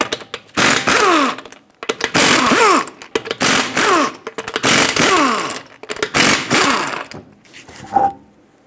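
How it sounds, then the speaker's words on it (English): A power tool fitted with a 19mm socket spins lug nuts off a Subaru Crosstrek wheel in about five loud, close bursts of whirring rattle, each rising and falling in pitch, with short pauses between them. "Use a 19mm socket to remove the lug nuts and then pull the wheel off."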